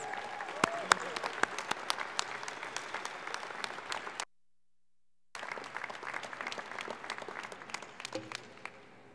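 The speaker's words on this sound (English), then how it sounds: "Please join me in a round of applause for the MSIT graduates." Ceremony audience applauding MSIT graduates, dense sustained clapping from a large crowd, interrupted by a short gap of silence, then continuing with scattered louder claps.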